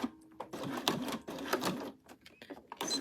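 Home sewing machine stitching fabric for a unicorn bag at a 3 stitch length, slow bursts of rapid mechanical needle clatter starting and stopping close by, no talk.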